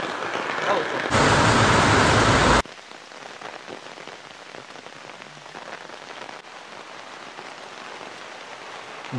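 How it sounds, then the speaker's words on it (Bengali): Heavy rain pours down in Santiniketan, a dense, steady hiss of drops on surfaces that stays loud and even throughout, with a brief, louder burst of noise near the start. "জোর বৃষ্টি নেমে গেছে"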